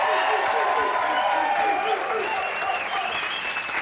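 A television cooking studio audience applauds the band leader and another band member on the Emeril Live set, with dense, steady clapping and crowd noise that stays loud throughout and eases off only slightly toward the end.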